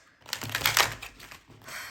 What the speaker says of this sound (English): Let me shuffle these cards a bit better